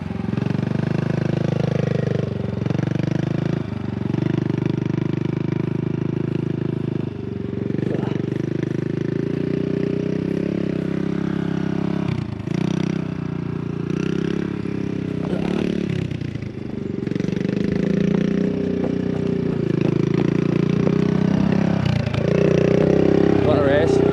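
A new dirt bike's engine drones loudly and steadily as it rides off, the rough motor tone running throughout with voices talking over it.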